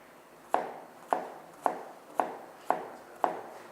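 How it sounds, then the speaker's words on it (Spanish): Knife chopping an onion into brunoise on a cutting board, six sharp, evenly spaced chops at close range with no talking. "Para evitar desperdicios podemos girar nuestra cebolla y continuar picándola."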